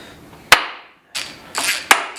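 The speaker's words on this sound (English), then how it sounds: "Hammer." Several sharp hammer strikes ring out, loud and close, two crisp hits with a couple of duller knocks between them.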